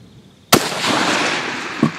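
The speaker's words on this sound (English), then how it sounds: "What target are you shooting?" Airgun firing at a target, one sharp loud report followed by a long hissing, crackling wash, then a second softer pop near the end, close by with no talk.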